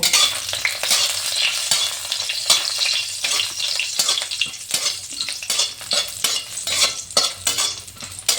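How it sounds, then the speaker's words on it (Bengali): Steady hiss and crackle of lentil dumplings frying in hot oil, with occasional scrapes and stirring clinks, close and continuous throughout. "এখন একটু বড়িটা ভেজে নেব"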